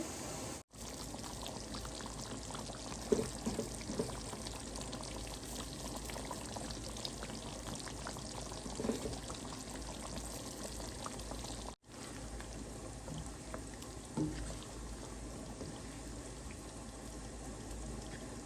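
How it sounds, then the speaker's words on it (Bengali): Chicken korma sizzles and bubbles in a pan as fried onions are added, a steady, close hiss of frying with faint crackles and stirring throughout. "চিকেন কোরমাটা হয়ে গেছে এখন আমি পেঁয়াজের ব্রেস্তাটা অ্যাড করব"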